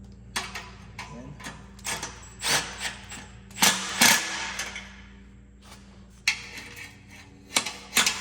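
Impact wrench working on a Yamaha G1 golf cart exhaust manifold, a handful of short mechanical bursts and rattles spaced apart, close by, with quieter pauses between.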